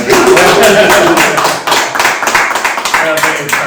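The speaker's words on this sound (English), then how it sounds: "Let's do the clap again." Two podcast hosts clap by hand at the start of an episode, close, loud claps in a quick uneven run mixed with laughter and chatter, the voices overlapping the claps throughout.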